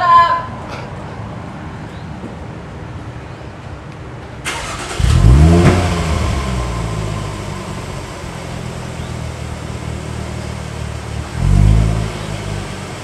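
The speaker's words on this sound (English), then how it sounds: "You start it and push your foot on the gas pedal. And it'll make noise." A Jaguar F-Pace with a Supersprint exhaust fires up and revs: a quiet lead-in, then the engine catches and holds a rough idle, swelling into a second rev near the end, close and fairly loud.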